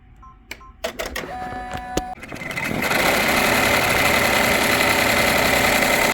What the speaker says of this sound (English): you put it back on your machine and let it do the foreground letter outline or tack down